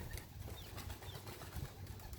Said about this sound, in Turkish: Kuşlar kaçtı.